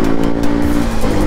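Superbikes, including a Kawasaki Z1000, roar past at high speed, a loud continuous engine howl with no pauses, close and dominant throughout.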